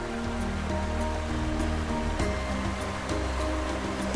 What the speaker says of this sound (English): here the water cascades down a near 200-foot drop